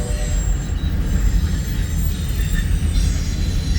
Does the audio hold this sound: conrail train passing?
yes